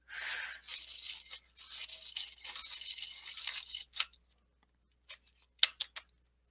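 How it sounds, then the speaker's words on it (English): A colored pencil is ground in a Doll 133 hand-crank sharpener, a steady close rasping whir for about four seconds followed by a few short clicks and taps. "I'm going to stick this in my handheld sharpener, or my crank sharpener here, and it's a Doll"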